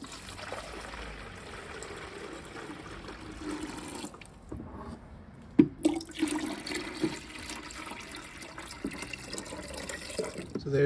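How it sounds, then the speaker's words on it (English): Water is poured into a tabletop portable ice maker: a soft, steady trickle, then a short pause with a clunk, then a louder splashing pour continuing to the end. "I'm going to add water and give it a shot"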